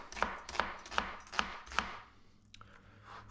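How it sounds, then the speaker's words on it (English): A knife cuts thin onion slices for burgers on a board, five crisp, evenly spaced chops close up, followed by a couple of softer taps. "I can just cut my onion slices thin to begin with"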